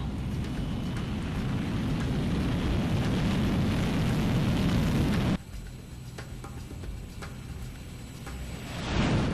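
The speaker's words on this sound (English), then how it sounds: "Garuda 1, you are cleared for takeoff." Jet engine roar from a fighter taking off in Ace Combat 6, a loud, dense broadband rush that drops abruptly to a quieter rumble midway before swelling again at the end.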